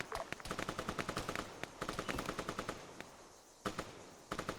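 Rapid bursts of machine gun fire in the video game Arma 3 rattle in quick, regular shots, broken by a couple of short pauses, loud and close without talk.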